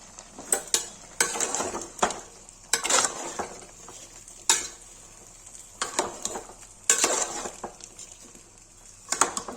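Mutton and onion frying in a pressure cooker pot, with repeated metal spoon scrapes and clanks over a steady sizzle, close and fairly loud.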